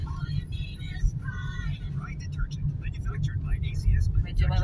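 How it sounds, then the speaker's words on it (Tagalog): Car traffic rumbles along a busy road in Naic, Cavite, a loud continuous low drone of engines heard from inside a vehicle, with people talking over it. "Medyo marami ang sasakyan dito bandang Naik."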